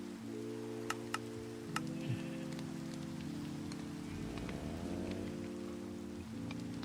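Steady rain hisses in Minecraft, played with the Authentic Skies modpack in the Nether, with a few sharp ticks of drops scattered throughout, all under continuous background music.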